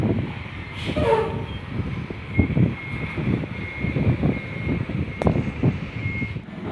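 Dump trucks loaded with sugar arrive at a port in steady rumbling traffic, their heavy engines droning nearby while a reversing beep repeats over them, with no talking.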